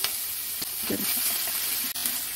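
Nigella seeds, ginger and green chilli hit hot oil in a pan, giving a steady crackling sizzle throughout with a few stirring scrapes, close and fairly loud, with no one talking.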